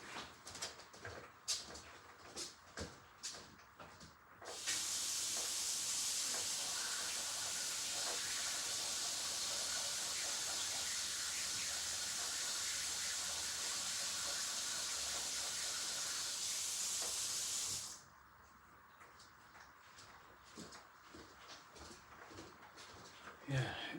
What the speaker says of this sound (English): just going to quickly clean this airbrush out and then mix up some more paint